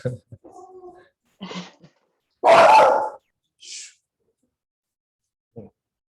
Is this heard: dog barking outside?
yes